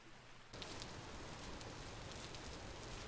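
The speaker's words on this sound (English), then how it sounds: "It was getting a bit dark now, and it was raining." Rain falling in the game Vintage Story starts abruptly after a short quiet moment, then continues as a steady soft hiss of drops, fairly faint overall.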